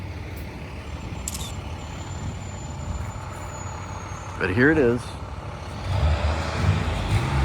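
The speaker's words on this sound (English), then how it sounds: "we have a noise of a school bus coming by" A school bus rumbling past on a residential street beside a house porch, its engine swelling near the end over steady traffic noise, while someone speaks briefly.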